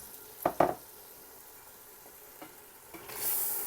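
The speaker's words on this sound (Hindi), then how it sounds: "7-8 मिनट के लिए भूनेंगे हल्की आंच पे।" Round tinda gourds frying in masala in a pan over low heat give a couple of quick, sharp sizzles near the start, then a faint, steady background hiss.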